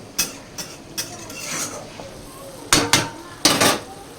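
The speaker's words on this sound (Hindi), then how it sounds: "थोड़ा तड़का लगाएंगे दाल में।" Metallic clinks and scraping of a utensil against a pan while tempering lentils with chilli and onion, with a few louder sizzling bursts near the end.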